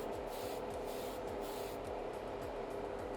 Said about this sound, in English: let's get spraying